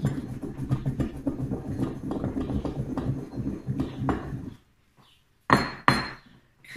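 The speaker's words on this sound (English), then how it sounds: "I'm just gonna add half and grind that in." A spice blend is ground with quick rhythmic scraping and knocking strokes for about four seconds, then after a brief silence two sharp, loud clinks ring out.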